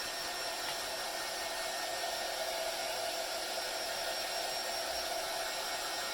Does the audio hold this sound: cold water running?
no